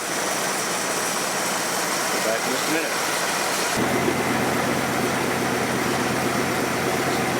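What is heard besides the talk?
1964 Plymouth Barracuda engine running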